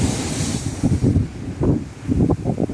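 Sea waves and wind at a beach resort in Botolan, Zambales: heavy wind buffeting the microphone over rolling surf, loud and gusty, with no talking.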